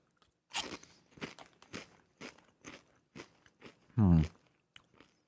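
Chips crunch in a series of sharp, close bites and chews, about eight crisp bursts spaced irregularly, with one louder, rougher crunch near the end and no talk between them.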